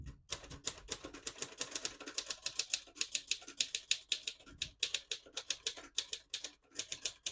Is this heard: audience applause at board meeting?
no